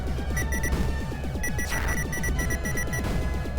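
Rapid, evenly spaced electronic beeps repeat throughout from the 1984 Mylstar arcade game Us Vs. Them, layered over a throbbing low pulse of game sound effects that keeps steady and loud.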